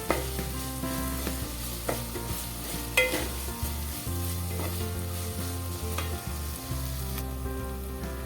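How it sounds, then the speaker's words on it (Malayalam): Chopped ginger, garlic and onion sautéing with salt in a pan for a Kerala-style mackerel fish curry, a steady close sizzle broken by frequent clicks and scrapes of a stirring spoon, with no voices. "ഉപ്പ് ആഡ് ചെയ്യുമ്പോൾ ഈ ഇഞ്ചി, വെളുത്തുള്ളി, ഉള്ളിയെല്ലാം നന്നായിട്ട് പെട്ടെന്ന് വഴറ്റി വരാറുണ്ട്."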